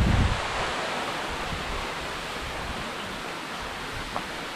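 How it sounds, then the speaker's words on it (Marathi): Water falls steadily beside a cave on a monsoon trip at Bhandardara, a dense continuous roar of rushing water with no voices, loud and unbroken from start to finish. "वॉटरफॉल इथं पाणी पडतं आहे"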